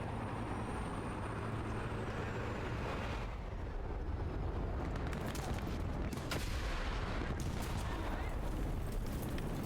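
Tank cannon and gunfire in the War Thunder vehicle combat game, a continuous dense battle rumble with sharp bursts of shots over several seconds, loud and busy throughout.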